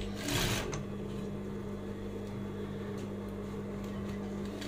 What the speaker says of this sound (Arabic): وببتدي خياطة من المنتصف والزيادة بشيلها